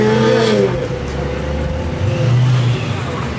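Chevelle engine revving outdoors, a rough throaty roar that rises and settles near the listener while people talk over it.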